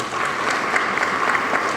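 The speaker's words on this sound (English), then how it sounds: "So each classroom teacher, please give them a round of applause." A school audience applauds classroom teachers at a staff gathering, a dense, steady patter of many clapping hands held at an even level throughout, with no talking over it.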